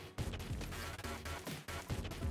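Rapid Vulcan Cannon gunfire from the Enter the Gungeon video game rattles continuously as a dense stream of sharp shots, loud and near, with brief gaps between bursts.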